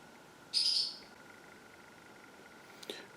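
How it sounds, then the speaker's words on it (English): A single bird chirps outside, short and fairly loud, then a faint second call comes about two seconds later over quiet background hiss. "That bird. Shut up!"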